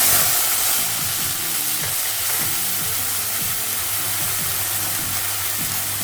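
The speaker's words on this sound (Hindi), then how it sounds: "ये ऑनियन गार्लिक का पेस्ट, ये भी हम अच्छी तरह एकदम ब्राउन करके भून के ले लेते हैं।" Onion and garlic paste browning in a home kitchen pan, giving a steady close sizzle and hiss throughout with no talk.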